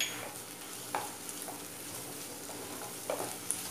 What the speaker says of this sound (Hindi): ये लगभग 1 टेबलस्पून अदरक लहसुन का पेस्ट है और इसे भी हम अच्छे से प्याज में थोड़ा भून लेंगे।